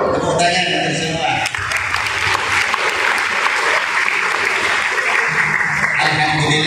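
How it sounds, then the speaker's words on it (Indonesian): Applause from an audience at a gathering for the guardians of students of a Qur'an memorization boarding school, steady dense clapping held for about six seconds with crowd noise underneath. "Tepuk tangan untuk semua."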